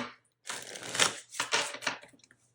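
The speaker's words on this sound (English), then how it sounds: "I'll give it another shuffle." Tarot cards being shuffled close up: a few quick riffling bursts of papery flutter separated by short pauses, in quiet surroundings.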